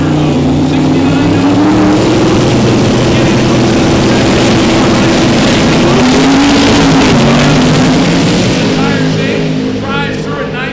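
Drag race cars, a big block twin turbo and an LS single turbo, roar loudly in a sustained, close engine blast with rising pitch as they launch, with talk over the top.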